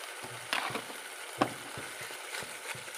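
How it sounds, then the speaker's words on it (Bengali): A spiced mix of potato and bottle gourd with Kashmiri red chilli, coriander, cumin and salt sizzles softly in a pan while being stirred, with a few scraping knocks from the utensil against the pan. "আমি এটাকে মিক্সড করে নিচ্ছি সব।"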